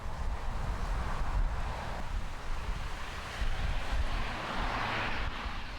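Broad, rumbling aircraft noise near Gimhae Airport in Busan, steady and heavy with a strong low-frequency roar and wind-like rush, swelling slightly in places with no voices.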